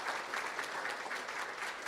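Board meeting audience claps in a continuous, even round of applause, moderately distant and dense throughout, with no voices over it.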